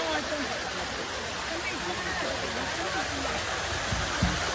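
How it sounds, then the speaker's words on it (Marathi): A stream flowing during the rain, a steady broadband rush of water that stays even and fairly faint throughout, with a small thump near the end. "तुम्ही बघू शकता इथून झरा वाहतोय"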